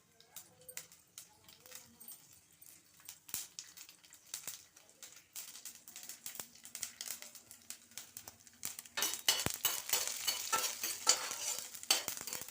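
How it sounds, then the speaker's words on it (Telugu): Spices for a tempering sizzle and crackle in hot oil while being stirred, alongside cucumber being cooked; the frying grows louder and denser toward the end, with scraping and stirring noises throughout. "ఇప్పుడు చూడండి, పోపు వేసాను."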